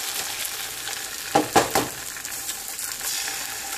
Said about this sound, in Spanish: vamos a nada más a dorar un poquitito y vamos a agregar nuestros huevos batidos